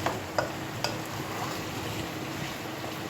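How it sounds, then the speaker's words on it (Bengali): Egg curry with bitter gourd is stirred and fried in a pan, giving a soft continuous sizzle with a few sharp spatula scrapes near the start; no one speaks. "এটাও ভালোভাবে কষিয়ে নেড়ে নেওয়ার পর"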